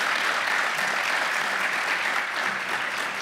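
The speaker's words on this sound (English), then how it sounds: "We can have another round of applause for David and the New School for hosting us." A large audience gives a round of applause at a morning event hosted by the New School in New York City, with dense, steady clapping throughout at an even loudness.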